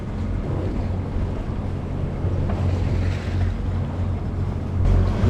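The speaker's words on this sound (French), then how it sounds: "Alors, on a démarré le moteur." A sailboat's Perkins diesel engine drones steadily at a low pitch on the open Atlantic, mixed with wind and rushing water around the hull.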